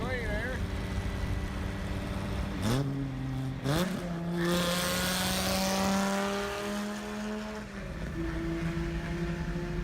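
A Dodge Viper V10 engine revs up and shifts through gears, its harmonic drone rising in pitch in steps, loud and close with a continuous roar throughout.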